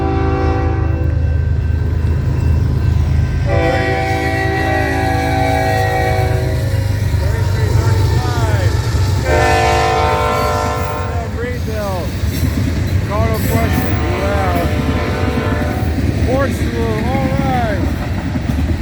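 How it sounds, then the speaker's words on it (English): A northbound manifest freight train led by CN ES44AC and AC44C6M locomotives rumbles past close and loud, sounding repeated long horn blasts over the steady roar of engines and wagons. "I got a train coming."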